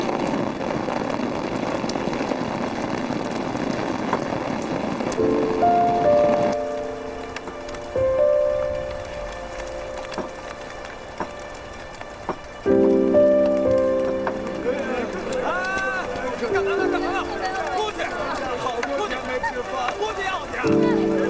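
Steady rain falls outdoors in an ancient Chinese palace-drama setting, a continuous broadband hiss running throughout with music and low voices layered above it.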